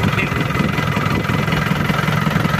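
An engine idles with a loud, steady, low rumble and even pulsing close by, with no throttle changes and no talking.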